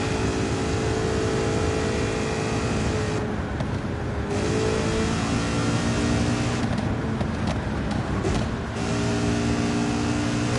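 Shelby Cobra race cars in the Gran Turismo 7 racing game roar at full throttle, a loud continuous engine drone with brief dips and rises as they rev and shift, with no talk over it.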